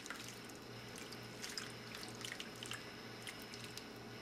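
A garlic marinade poured over raw chicken pieces in a kitchen makes a soft, close trickle with faint drips and wet splashes, quiet and continuous.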